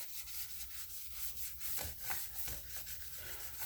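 Wet sanding a car body panel by hand with 600 grit sandpaper, a soft continuous scrubbing rub with rhythmic back-and-forth strokes, close but quiet, with no talking.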